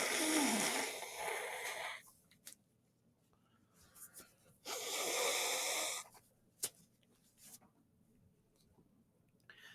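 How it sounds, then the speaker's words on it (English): A person blows their nose into a tissue in two long, close, breathy bursts separated by quieter sniffs and small handling noises in a hushed room. "Sorry if you need to hear me blow my nose."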